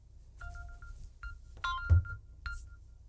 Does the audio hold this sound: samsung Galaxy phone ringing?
yes